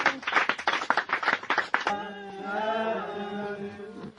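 Church congregation at a gathering in Ghana claps in a quick burst of sharp, rhythmic hand claps for about two seconds, followed by a sustained voice and crowd sound as the acclaiming continues.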